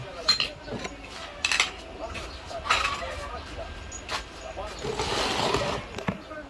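Utensil clinking against a bowl while mixing carrots and egg for lumpia shanghai, a string of quiet irregular taps and scrapes, close but soft, with speech at times.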